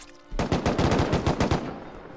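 Automatic gunfire in the survival game Rust: a single close, loud burst of rapid shots lasting just over a second, then a quick fade.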